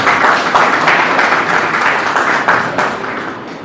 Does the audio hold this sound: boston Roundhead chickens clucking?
no